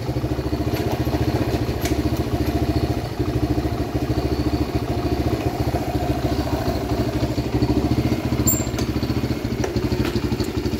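A 2003 Suzuki DRZ 125 motorcycle idling nearby, a steady rapid single-cylinder putter with light mechanical clatter that holds an even rhythm throughout, with no speech.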